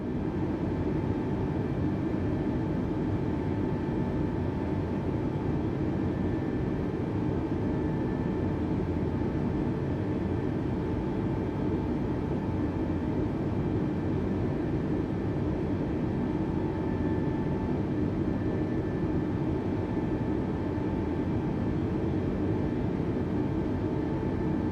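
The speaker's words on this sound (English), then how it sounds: "we will take the plane off the ground when the plane reaches 150 knots of speed" A video-game airplane engine drones at full takeoff power, a loud, steady broadband roar with a faint tonal whine that holds unchanged for the whole stretch.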